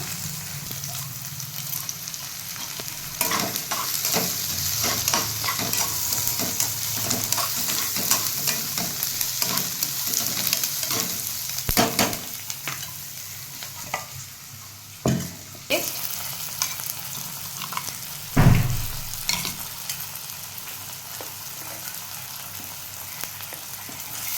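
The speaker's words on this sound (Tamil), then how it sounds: "கருவேப்பிலை போட்டு நல்லா வதக்கிக்கலாம் வெங்காயம் வதங்கிறது" Onions and curry leaves sauté in a pan with a continuous sizzle, broken by repeated scraping stirs and a few sharper clanks. It is close and moderately loud, with no talking.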